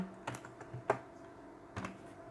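Keys tapped on a computer keyboard while entering a line of programming code, a few sparse, separate clicks at close range with quiet pauses between them.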